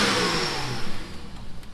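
A 2011 BMW 335xi N55 engine runs just after starting, a close, steady mechanical rumble with slight revving.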